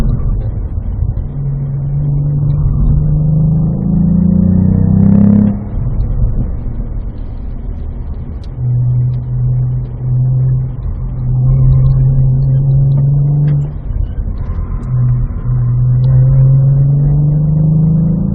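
A Cadillac engine drones and revs on a race track at a performance driving academy, loud and close, with pitch rising in repeated pulls and dropping sharply at downshifts.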